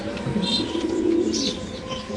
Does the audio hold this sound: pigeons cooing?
yes